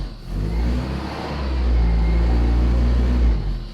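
A Mini pickup's engine revs up and eases off, a loud, close, continuous mid-pitched drone that swells in the middle and settles again, with no talking.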